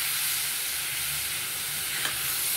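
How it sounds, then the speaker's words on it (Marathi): Tomatoes fry with onions in a pan, giving a constant dense sizzle and hiss that is close and fairly loud, with one faint tap near the end. "आता हे टोमॅटो सुद्धा आपल्याला परतून घ्यायचे ह्या कांद्यामध्ये।"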